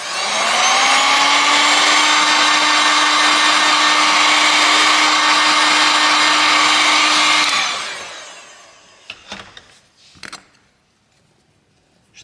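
A heat gun blows steadily during a phone screen teardown on a BLU G74 handset, a loud even whoosh with a whine that lasts about eight seconds, then cuts off and leaves a few sharp clicks and handling noises.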